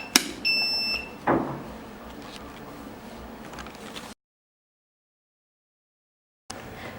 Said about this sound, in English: if the cartridge is not plugged in or inserted properly, the device will give an alarm